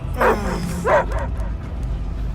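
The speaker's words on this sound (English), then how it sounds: "I hear only barking" Dogs bark in the video game Guardians of the Galaxy, two clear yelping barks close together near the start over a low rumbling game background, then only ambient noise.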